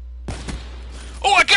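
Sniper rifle gunfire in the Black Ops 3 beta, a few sharp thumping shots near the start, followed by a burst of bright in-game effects near the end, with a voice talking faintly.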